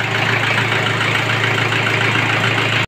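A Nissan CD17 diesel engine, recently overheated, idles steadily with a rough, even clatter and low hum, close and loud until it cuts off abruptly.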